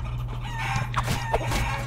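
Chickens cluck and a rooster crows over a steady low hum in the video game Guacamelee!, a few short bird calls close together against constant background drone.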